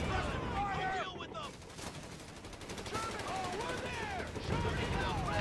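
Gunfire in Company of Heroes 3 plays quietly behind someone talking, with scattered distant shots and small bursts mixed with battle noise.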